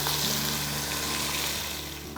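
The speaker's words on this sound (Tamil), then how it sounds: "இப்போ நம்ம வறுத்து அரைச்சி வச்சுருக்க இந்த மசாலா எல்லாத்தையும் இதில் ஊற்றிக்கலாம்." Ground roasted masala for pepper rice is poured into hot oil with cumin and curry leaves, setting off a loud, close, continuous sizzle and crackle that eases slightly at the end.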